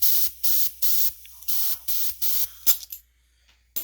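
An air compressor nozzle puffs air into a sport ball in six short, evenly spaced hissing bursts, then trails off into quieter sputters and near silence.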